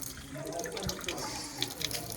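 Water runs from a year-round spring spout carved as a cow's mouth at an ancient temple beneath a large hill, a steady close splashing stream with a few brighter drips.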